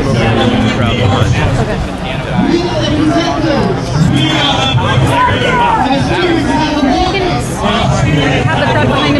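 Dense babble of a crowd of activists at Jerry Brown's climate summit in California, with many overlapping voices close by and a steady loud murmur throughout.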